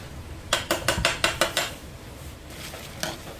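A spoon knocks and scrapes in a cooking pot while a sweet mixture is stirred for a Christmas meal: seven quick, evenly spaced clinks, then a pause and two lighter taps, close and fairly loud, with no talking.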